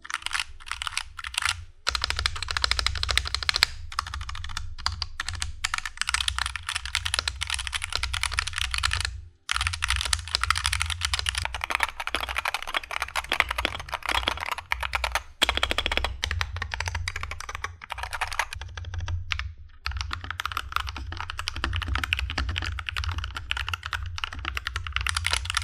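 Logitech G Pro X 60 gaming keyboard being typed on: rapid, dense, continuous key clacks close up, with a low hum beneath and a few brief pauses, no talk.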